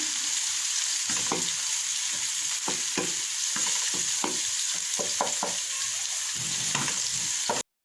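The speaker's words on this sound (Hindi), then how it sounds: "इसे भी 2-3 मिनट के लिए भूनेंगे।" Garlic ginger paste sizzles and fries in a pan, with steady crackling broken by repeated scraping stirs of a spoon.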